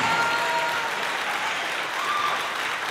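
A school concert audience applauds a jazz band, with Clark Intermediate and Clovis High players at an autumn concert, a full steady round of clapping, close and sustained, with faint high tones lingering underneath.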